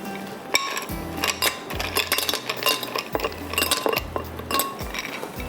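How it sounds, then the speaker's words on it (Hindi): Ice cubes dropped into a glass of sucralose-sweetened red sharbat, giving a run of sharp, close clinks and clatters at an uneven pace over low, humming tones. "इसके बाद हम इसमें डालेंगे बर्फ़"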